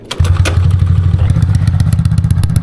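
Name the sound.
motorcycle engine running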